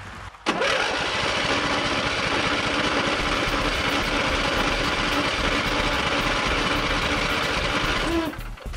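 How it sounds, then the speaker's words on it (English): A gasoline lawn mower engine catches after a short start and runs loud and steady at a constant drone, stopping near the end, with no voices. "Now's the part where it's supposed to start and run."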